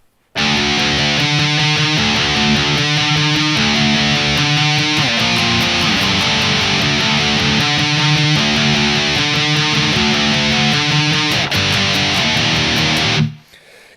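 Electric guitar playing a passage from a song, loud and up front, with repeated riff phrases and sustained, slightly distorted notes running steadily for over ten seconds before stopping.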